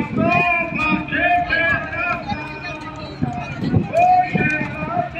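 Horses' hooves clip-clop along a horseback cavalcade at a cowboy mass in Pedras Altas, mixed into a busy outdoor crowd with people talking and calling throughout.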